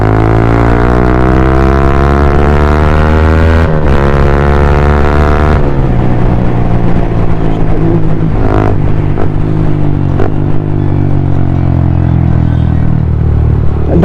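A Yamaha MT 15 motorcycle ridden on the road drops through gears, its loud, close engine note falling in pitch with each downshift and breaking off in brief gaps between gears, with no talking.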